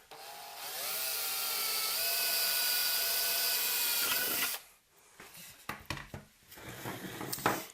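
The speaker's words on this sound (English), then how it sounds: "Oh, drill walked on us there." An electric drill bores holes in a metal chassis for a DIY phono preamp, whining loud and steady for about four seconds before cutting off into scattered clatter and handling knocks.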